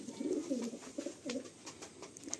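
Madrasi and Giribaj pigeons at a loft give short, soft, throaty coos in a few quick rolling bursts close by, against a hissy background.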